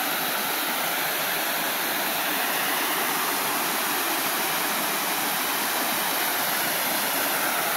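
Steady rushing water from a waterfall and stream pouring into a lake, a dense, continuous broadband roar that stays even and close throughout with no voices.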